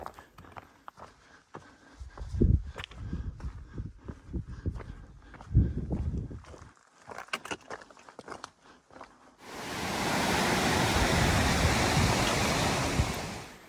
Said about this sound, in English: We're gonna get water here at this stream.